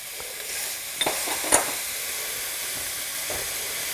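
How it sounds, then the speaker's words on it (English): Garlic sizzling in a soup pot, a soft, steady hiss of frying with a few faint clicks and stirring taps, heard alone at moderate loudness. "I'm also gonna go ahead and add in my garlic right now, so it'll get a chance to cook"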